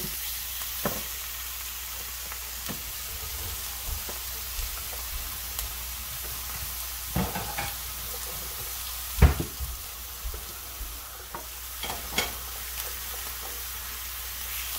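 Slices of well-done deli roast beef sizzle gently in a hot pan, a steady soft frying hiss broken by scattered small pops and crackles, close and without voices.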